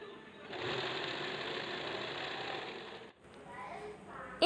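A sewing machine runs in a fast, steady whir for about three seconds while stitching the twice-folded hem of a silk skirt, then stops, followed by quieter handling sounds.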